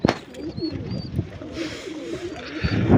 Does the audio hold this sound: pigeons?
yes